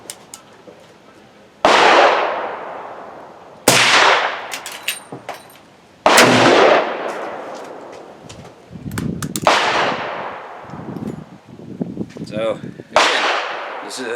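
A Thompson Center Contender single-shot pistol chambered in .35 Remington fires several sharp, loud reports outdoors, each followed by a ringing decay, with brief talk and handling noises between shots.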